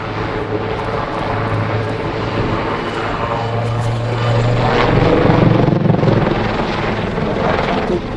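A Lynx helicopter performs a backflip, its engine and rotor roaring loudly and steadily throughout, swelling slightly midway, with no talking over it.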